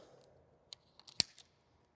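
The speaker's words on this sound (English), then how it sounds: "you can take an X-Acto knife and you can puncture the tape," X-Acto knife puncturing and slicing tubeless bicycle rim tape on a wheel rim: a few faint, sparse ticks and clicks, then one sharp louder snap as the blade cuts through, followed by small scrapes in a quiet room.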